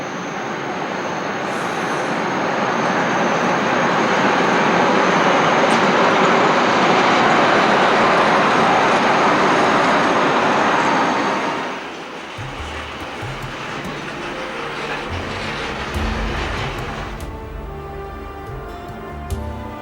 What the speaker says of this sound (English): The train first passes through Narvik station before reaching its final destination at